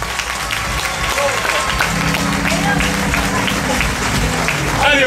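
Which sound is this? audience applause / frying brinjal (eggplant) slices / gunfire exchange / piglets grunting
audience applause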